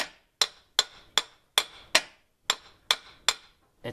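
End of a CV axle on a 2000 GMC Sierra 2500 being tapped with a hammer, about nine sharp, ringing metallic knocks at a steady pace, close and alone.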